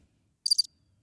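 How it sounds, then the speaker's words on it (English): A cricket chirping once as a sound effect, a short high trill of a few rapid pulses, clear and isolated against near silence. "That's where crickets need to be."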